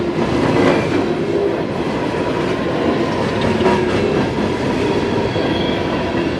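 A freight train rumbles past close by at a crossing in Marion, Ohio, a steady loud roar with rhythmic clattering of wheels on the rails throughout.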